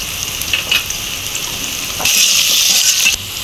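Potatoes fry in hot oil for a horn fish dish, a steady close crackling hiss that swells louder for about a second before settling back, with no voices.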